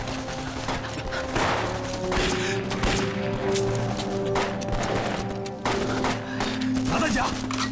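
Rapid gunfire from a Chinese war drama set in wartime, sustained volleys and bursts crackling across the whole stretch under a dense battle din, with shouted voices mixed in.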